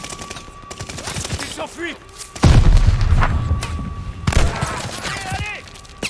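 Gunfire in the video game Call of Duty Vanguard: bursts of shots and heavy booms crack through the mix while French voices shout over the battle.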